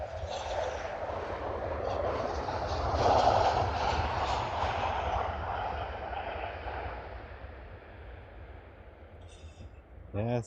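A Transavia airliner arriving at Brussels Airport on a windy day gives a broad, roaring jet rush. The roar builds to a peak and then slowly fades away. A brief clatter sounds near the end.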